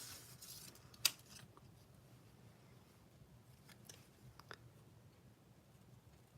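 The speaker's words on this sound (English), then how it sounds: "So let me just cut some of this out." Scissors snip paper for a handmade card in a quiet room, with one sharp close cut followed by several softer, scattered snips and faint rustling.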